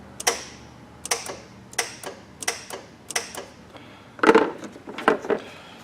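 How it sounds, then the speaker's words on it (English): On a 6.0 Powerstroke Econoline van, the A/C compressor clutch engages as its relay is jumped, giving a series of sharp clicks about once per second, with a louder clattering burst near the end, close and fairly quiet. "Obviously, you'll hear the compressor come on."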